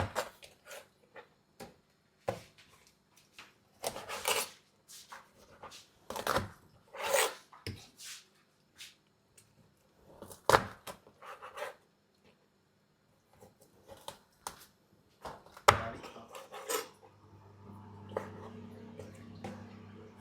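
Chicken is chopped on a cutting board with a knife, sharp irregular thuds in bursts, fairly quiet and close, with small scraping sounds and a low hum near the end.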